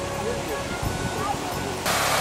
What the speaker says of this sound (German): Der Brunnen zwischen mittlerem und unterem Parterre, dessen Wasser wir hier so herrlich im Hintergrund plätschern hören